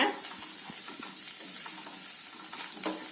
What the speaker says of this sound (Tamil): இதை நல்லா கலந்து விட்டுடலாம் அவ்வளோதான் ரெண்டே ரெண்டு கலக்கு கலக்கிட்டு நீங்கள் அடுப்பை ஆஃப் பண்ணிவிடுங்க